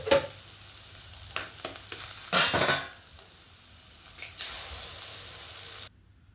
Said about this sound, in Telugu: ఇంకా నెక్స్ట్ అయితే ఇందులోకి గుడ్లు అయితే కొట్టి వేయాలండి.